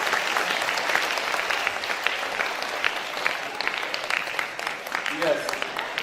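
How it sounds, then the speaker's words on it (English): Steady audience applause rings out at a school dance competition event, a dense patter of many hands clapping at moderate distance for several seconds, with a brief voice near the end. "So can you all give the parents a big round of applause?"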